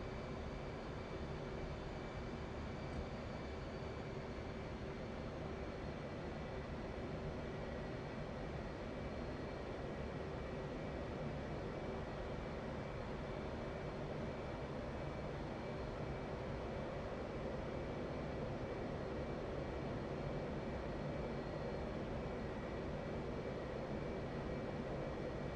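A steady, continuous jet roar from an F/A-18C engine throttling back in DCS World, a broad even drone holding at constant level throughout with no voices.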